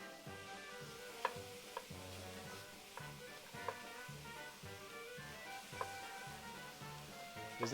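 Onions, green and red peppers, celery and carrots cook in a pan, giving a faint, steady sizzle under soft repeated scraping and stirring strokes in an even rhythm.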